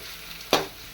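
Torn green chillies sautéing in hot oil for a chicken gravy, quiet background sizzle broken by one sharp, brief stir or toss near the end.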